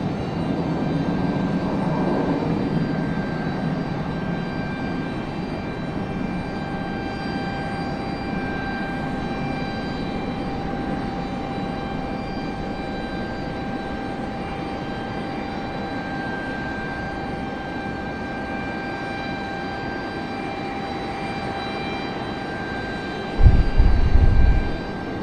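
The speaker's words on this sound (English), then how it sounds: "There's our Delta 757 making its way back out there." A Delta Boeing 757 taxis at Raleigh-Durham airport, its steady jet engine whine holding at moderate distance with tonal hums throughout, before a brief loud low-frequency rumble near the end.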